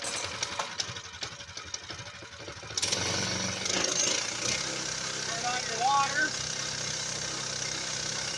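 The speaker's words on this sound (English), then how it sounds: "I'm going to do a quick saw for you so you can see" A Hud-Son Hunter band saw mill starts up and cuts through a log, a loud steady whining engine and blade drone rising after a quieter start and running continuously to the end, with a brief voice near the beginning.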